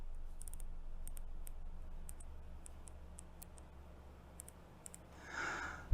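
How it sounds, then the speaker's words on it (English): Turrets on an Orcair 3-9x40 AO rifle scope being turned, giving a series of faint, crisp, quick clicks in uneven bursts held close to a microphone, followed by a brief soft rustle. "how well you can hear the click and how much you feel the click of these particular turrets"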